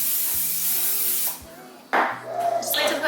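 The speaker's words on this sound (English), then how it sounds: "Just like to put a little bit of cooking spray on there so it doesn't stick to the foil." Cooking spray hisses onto aluminum foil in a home kitchen in two close, loud bursts, the first longer and steadier, the second brief and broken, with a quiet pause between them.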